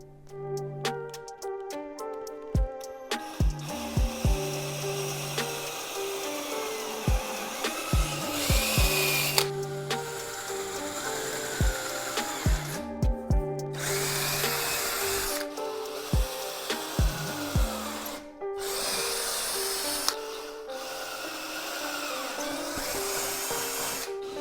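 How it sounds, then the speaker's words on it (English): A Dremel rotary tool works on a Dodge Charger SRT8 bumper, whining steadily in long runs broken by brief pauses, with sharp clicks and knocks between passes, close and fairly loud throughout. "Probably drill a hole on either end and then slowly work it out with the Dremel."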